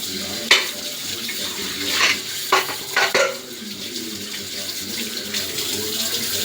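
Water runs steadily from a kitchen tap while dishes are rinsed after making rasam, with a few clinks and splashes standing out over the continuous flow.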